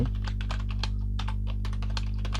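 Rapid, steady typing on a computer keyboard while drafting an application letter, close and clear clicks over a constant low electrical hum, with no talk.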